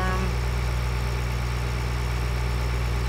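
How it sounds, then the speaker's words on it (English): A tractor engine idles steadily in Farming Simulator 2013, a loud, constant low rumble with an even mechanical drone and no talk over it. "Gonna take our sowing tractor back to the farm"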